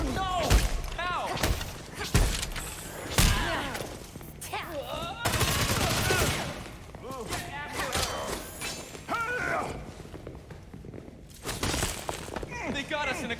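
Gunfire from enemy thugs in the Gotham Knights video game, with repeated loud bursts, rapid volleys and heavy impacts mixed with shouting voices and combat clatter.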